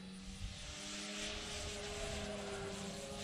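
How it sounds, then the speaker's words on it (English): SIG Kadet Senior Sport radio-controlled model airplane in flight outdoors, its propeller engine giving a steady whining drone that shifts slowly in pitch as it passes at moderate distance, with no talking. "this is the sport plane."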